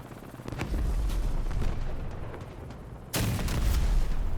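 Heavy cannon fire booms in the vehicle combat game Crossout: a rumbling series of loud shots over a steady engine drone, with a sharper blast near the end.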